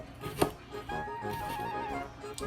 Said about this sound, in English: We cut this cucumber.